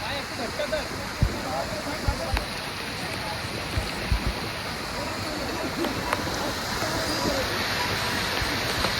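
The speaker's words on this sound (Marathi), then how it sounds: "खूप छान असा वॉटरफॉल आहे." A waterfall on the rainy, foggy Kedarnath trekking route roars in a dense, steady rush of water that fills the scene, with occasional faint knocks and rustles nearby.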